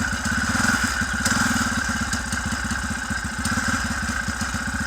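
Moped engine running at a steady idle after a freshly cleaned carburetor, a close, loud, even putter of rapid combustion pulses throughout.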